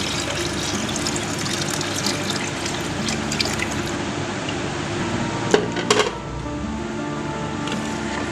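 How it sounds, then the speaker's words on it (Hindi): Liquid pours steadily into a cooking pot on the stove, a continuous splashing wash near the mic with a couple of brief clinks, as a litre of milk goes into sago (sabudana) kheer. "इसी के साथ हम दूध डाल देंगे। 1 लीटर दूध है हमारे पास,"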